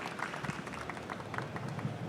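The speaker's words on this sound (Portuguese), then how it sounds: "Por favor, Marcos. Salva de palmas." Audience applause fills a conference hall at a banking technology event, a soft, continuous wash of many hands clapping, heard from a distance at low volume, with faint voices mixed in.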